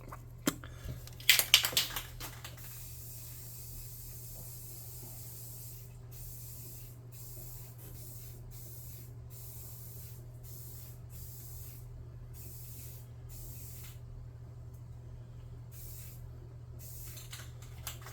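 A long continuous hiss of a spray paint can, preceded by a brief rattle, with short pauses breaking the spray near the end.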